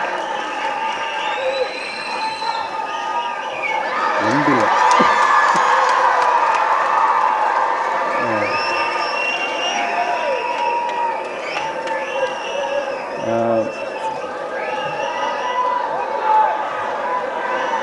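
A large crowd cheers, whoops and applauds at a film audio launch for Onbathula Guru, a sustained roaring wash of clapping and shouts that swells and then settles, with someone speaking through parts of it.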